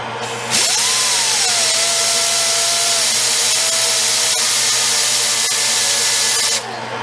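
An old New Idea reel mower runs in reverse, giving a steady, loud mechanical whir with a sustained tonal whine that rises at start-up and holds level for about six seconds before stopping.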